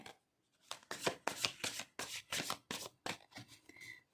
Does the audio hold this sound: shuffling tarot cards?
yes